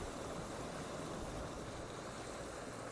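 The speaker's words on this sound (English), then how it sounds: "The waves can be quite powerful." Ocean waves roll in at a rocky shore covered in shells as the tide comes in, a dense, steady wash of surf filling the whole stretch without talk.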